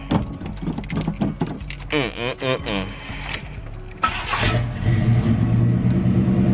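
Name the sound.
car engine starting up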